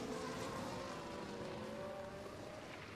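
McLaren Formula 1 car in a racing video game at the Azerbaijan Grand Prix, engine holding a steady high whine at full throttle down a straight, with layered engine tones from nearby cars under a constant roar.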